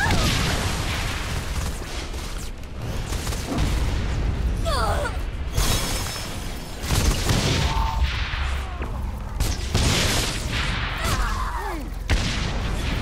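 Explosive weapons firing in Saints Row 4, repeated booming blasts and crackling detonations over a constant noisy battle backdrop, heard close and loud.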